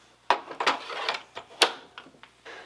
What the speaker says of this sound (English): this whole tray slides right out